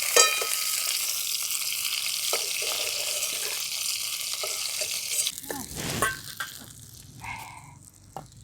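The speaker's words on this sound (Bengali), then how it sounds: "এই মাছগুলো লাল লাল করে ভাজা হয়ে গেছে" Tilapia fish frying in hot oil in a kadai gives a loud, steady, close sizzle for about five seconds, then softer spattering with a few scraping and clattering touches as the pieces are lifted out.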